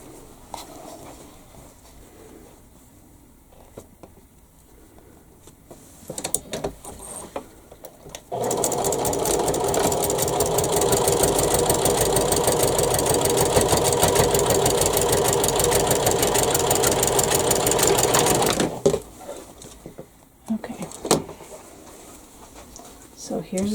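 A sewing machine runs in one long steady burst of rapid, even needle clatter while stitching Cathedral Window quilt block pieces. Before and after it come quiet handling clicks and fabric rustles.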